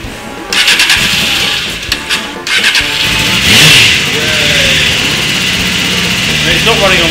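A four-cylinder Honda motorbike engine starts and runs unevenly, misfiring and not firing on all four cylinders, its rough mid-pitched note rising and dipping close by while people talk over it.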